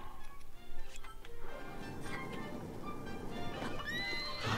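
A horse neighs and whinnies in the video game Zelda: Tears of the Kingdom, a fairly faint call amid game sounds and clattering, with brief high chimes near the end.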